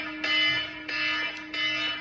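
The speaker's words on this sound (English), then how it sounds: "This is my 7:30 alarm." A morning alarm repeatedly beeping, three loud electronic buzzing bursts about two-thirds of a second apart, close and alone with no talk.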